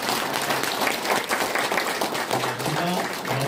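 An audience at an evening lecture applauds a pastor with dense, steady clapping that fills the whole stretch, and a voice comes in faintly near the end.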